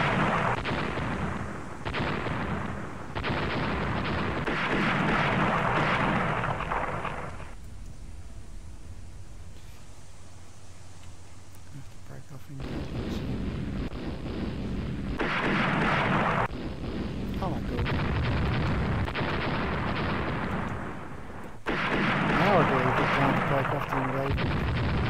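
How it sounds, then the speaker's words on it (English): Naval guns fire in the Rule The Waves warship battle game, loud booming salvos arriving in repeated bursts with short gaps between volleys and one longer lull in the middle. "we're firing on all guns now"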